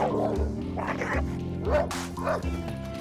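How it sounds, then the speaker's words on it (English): Three pit bulls bark from inside a van, with rapid, overlapping barks, yips and whimpers, fairly close and under a voice talking. "there's 3 pit bulls in a van that are barking at him"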